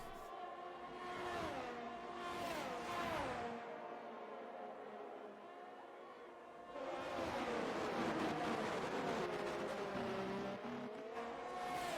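Race cars in a racing video game round the Austrian Grand Prix circuit, engines whining and shifting pitch as they brake and accelerate, several cars close together, with a brief lull before engine noise swells again.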